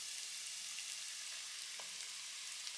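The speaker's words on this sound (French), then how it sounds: "on rajoute nos champignons bruns" Brown mushrooms hit a hot frying pan over medium-high heat, already holding scrambled egg and tomato ingredients, giving a steady, soft, hissing sizzle throughout, with no talking.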